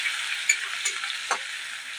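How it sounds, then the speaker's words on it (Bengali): Spices and grated ginger stir-fry in a pan, giving a soft continuous sizzle with a few faint scraping stirs, close and moderately quiet, with no talking. "দিয়ে আমি ভালো করে কষিয়ে নেব।"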